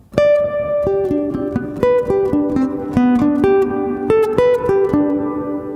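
A guitar through a Walrus Audio Slower pedal picks slow single notes that swell and trail into a deep, cavernous reverb, each note ringing on under the next in a steady, spacious melodic line.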